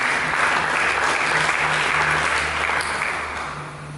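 A church congregation at a Sunday service claps together in a dense, sustained round of applause that fades slightly toward the end, with faint background hum.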